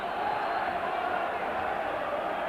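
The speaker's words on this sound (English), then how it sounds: "So the crowd getting right behind them." Crowd at the football stadium during Rangers FC vs Club Brugge in the 1992/93 Champions League, a steady roar of cheering and chanting heard at a distance, with a commentator speaking over it.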